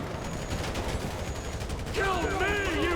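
Rapid gunfire in the GTA 5 bank robbery mission, bursts of shots crackling under steady game noise, with a rising whistling siren-like tone joining near the end; no talk.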